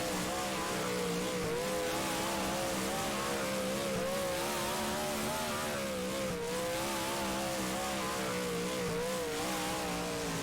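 A Super Stock car in rFactor drones steadily around Hartford, its engine holding a constant loud, slightly wavering roar at high revs for the whole lap segment, with no break.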